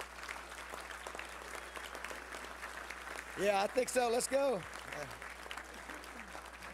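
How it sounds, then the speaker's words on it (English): Applause for young football players at a Little Rock Touchdown Club gathering: steady, fairly faint clapping from an audience that runs throughout, with a voice talking over it midway. "don't they deserve a round of applause for that?"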